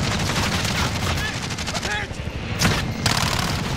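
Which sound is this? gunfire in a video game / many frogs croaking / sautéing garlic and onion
gunfire in a video game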